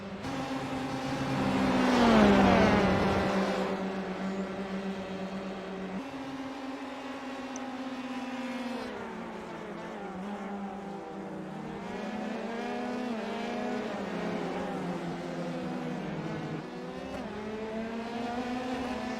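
Dallara Formula race cars at Silverstone scream past in quick succession, a loud high-pitched engine whine peaking and dropping in pitch as the first car passes, then more engines revving and shifting through gears at mid distance.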